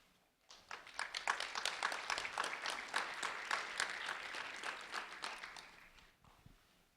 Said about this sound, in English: Round of applause for Austin, please.